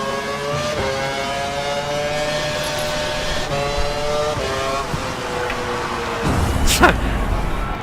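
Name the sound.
Formula 1 race car engine from video game F1 2012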